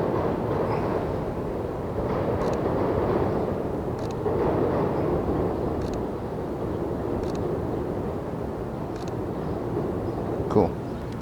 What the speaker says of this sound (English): So let's get that train in the background.